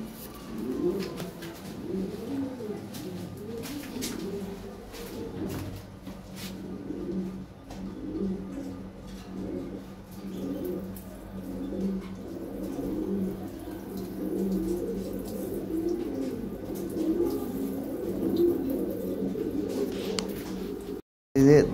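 Large top-quality pigeons coo in repeated rolling phrases throughout, fairly close, with someone talking over them and running water faintly behind.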